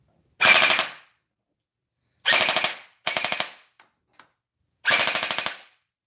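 A chunky toy blaster fires balls in four rapid-fire bursts, each a quick rattling volley of close, loud shots with short silent gaps between, the last burst after a few faint clicks.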